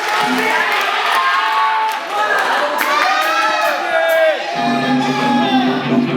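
An audience at a youth festival stage in Geochang cheers with shouts and whoops along with clapping as a teen band is introduced. The noisy, crowded sound carries on steadily throughout.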